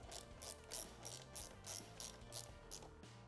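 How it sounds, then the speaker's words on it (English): A 10mm socket on a ratchet snaps through quick bursts of clicks while tightening a fastener during LED signal installation on a 2017+ Honda Grom. The bursts repeat steadily, close up and moderately loud, with no talking. "Grab a 10mm socket here really quickly and finish that off."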